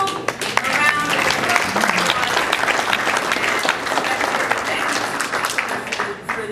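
An audience applauds soloists after a carol performance at a music composing session, with steady dense clapping throughout and a few voices mixed in.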